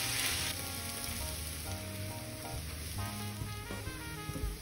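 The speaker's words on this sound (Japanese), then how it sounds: "玉ねぎを焦げつかさないようにそこはしっかりかき混ぜながら炒めていってください。" Onions sizzle softly in a frying pan, a quiet steady crackle with faint background tones running through it.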